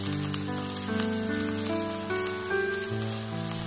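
Eggplant slices pan-fry with a steady, even sizzle throughout, under a layer of melodic background music.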